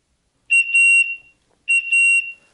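A smoke detector sounds two separate bursts of shrill, piercing electronic beeping, each under a second long with a short silence between them. No voices are heard.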